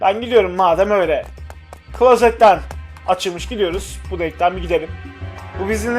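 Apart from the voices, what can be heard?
No everyday noises stand out.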